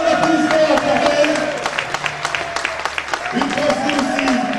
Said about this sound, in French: Un grand applaudissement pour Ben.